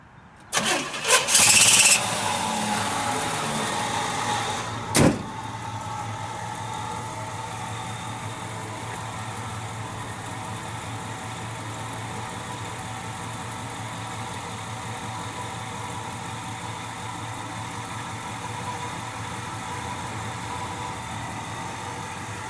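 A 1969 Pontiac Firebird convertible V8 with dual exhaust cranks briefly and catches with a loud burst, then settles into a steady, smooth idle that runs on alone.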